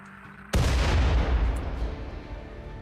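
A mortar fires in the Rimworld game with a single sudden, loud boom that rumbles heavily and fades slowly over the next couple of seconds.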